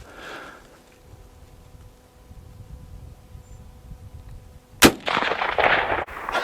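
A Winchester 1894 lever-action rifle fires one loud, sharp shot near the close, followed by a second brief crack shortly after, over a quiet outdoor background.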